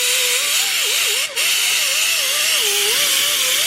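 A power tool with a rubber wheel cleans the deck surface of a junkyard LS engine block, a steady loud whine with a wavering pitch, briefly cutting out once before resuming.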